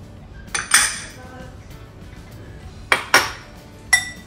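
Utensils clinking and scraping against a bowl while tossing salad with almonds, Parmesan, tomatoes and a yogurt-based dressing, a few sharp close clatters in two short bursts and one final clink.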